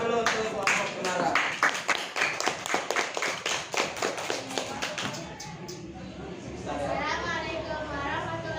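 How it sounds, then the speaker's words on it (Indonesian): A primary school class claps for a student group, a quick run of sharp, close hand claps for about five seconds that then fades into room murmur and a speaking voice. "beri tepuk tangan dulu untuk kelompok Cemara"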